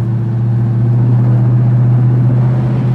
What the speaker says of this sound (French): Allez, encore un petit coup sur la pédale.